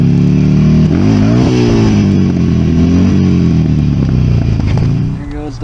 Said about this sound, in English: the guy's riding and just under normal power, the belt snaps and then he's stranded